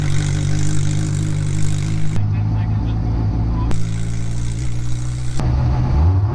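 Engine of a modified Smart car driving through winter snow, a steady droning hum with rising revs and gear-change breaks, close and loud, with voices talking over it.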